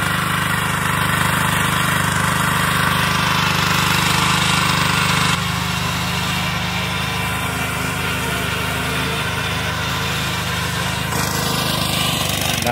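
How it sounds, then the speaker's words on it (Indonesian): A cultivator tills garden soil into raised beds, its small engine droning loud and continuous at close range, the pitch shifting slightly partway through as the load changes, with no voices. "beginilah cara pembuatan bedengan jadi menggunakan kultivator."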